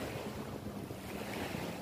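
Surf washing in at a beach at low tide, a steady broadband wash of waves mixed with wind buffeting the microphone, continuous and moderately faint with no voices.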